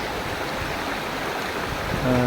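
Floodwater rushes through a village in a steady, loud broadband roar, like a fast stream, with no voices over it.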